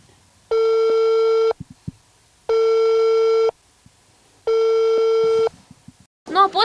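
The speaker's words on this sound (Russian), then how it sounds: "Для разъяснения ситуации мы пытались связаться по телефону с председателем Песчаного сельского поселения Еленой Кузнецовой." Telephone busy signal from an unanswered call to a rural settlement administration: three long, steady, loud tone bursts separated by even pauses, then a brief burst of other sound at the end.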